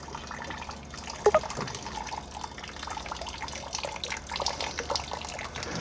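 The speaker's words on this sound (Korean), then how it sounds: "이제 물을 넣고 있는데 내려가셔가지고 곡구에서 뭐가 나오는지 한번 봐보세요" Water running from a hose or container into the engine of a 2022 car with a faulty engine oil cooler, a steady close trickle and splash with a few brief knocks.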